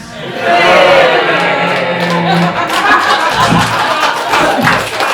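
A comedy-club audience at a stand-up show at Sofa SoFunny reacts with scattered clapping, groans and chuckles. It is a loud, mixed crowd response that swells after a short pause and carries on throughout.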